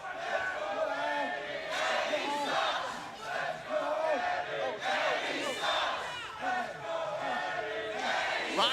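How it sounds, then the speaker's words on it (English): A lively arena crowd at a professional wrestling show in Orlando roars and cheers steadily throughout, with shouts and yells rising and falling in a dense, continuous wall of noise. "Lively crowd tonight here in Orlando"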